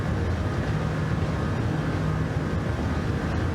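Race car engine in Gran Turismo 7 at Le Mans, a steady loud drone of sustained high-speed running with no gaps, holding a constant roar throughout.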